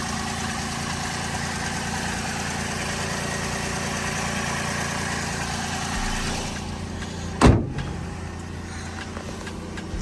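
A small 1-litre Vauxhall Corsa engine idles with a steady low hum, broken by one sharp knock or thud near the end before settling back.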